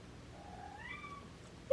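A cat meows once nearby, a rising then falling cry in a quiet room during jewelry making, followed by a brief sharp click at the end.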